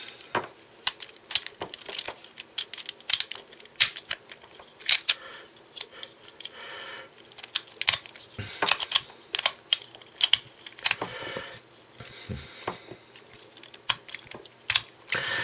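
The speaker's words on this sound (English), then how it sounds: "It does sort of click into place when a turn is made." A Q-Borg Pill twisty puzzle clicks sharply and irregularly as its layers are turned, close and crisp, with dozens of quick plastic clicks and snaps scattered across the clip and no talking.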